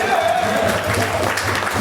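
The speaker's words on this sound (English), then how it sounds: "You can clap" An audience at a Libertarian Party convention claps loudly in a continuous burst of applause mixed with crowd voices and a speaker talking over it.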